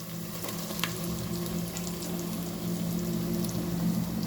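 Country chicken meat sizzles and fries in hot tempering, a steady crackling hiss with a few sharp pops and a stirring scrape, close and continuous.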